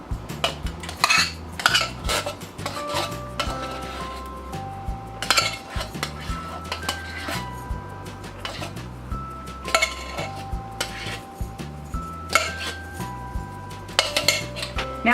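Spoon scraping and clinking against a metal can and pot as canned chili is coaxed out, a steady run of close, bright metallic taps and scrapes with music playing underneath.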